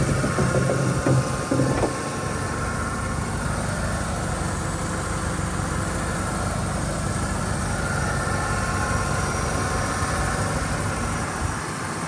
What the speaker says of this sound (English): Engine is smooth, runs awesome.